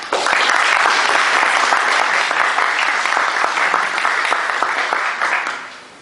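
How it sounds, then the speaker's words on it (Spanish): Steady, dense applause from an audience at a computer science lecture welcoming a speaker, loud and sustained for about five seconds before tapering off. "Les damos un fuerte aplauso"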